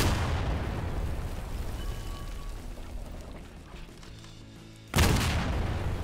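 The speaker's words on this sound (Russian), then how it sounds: "Ничего себе, не выдерживают мощные взрывы." Powerful explosions in the Garry's Mod video game: a broad rumbling blast opens and slowly fades into a low churn, then a sudden loud burst erupts near the end.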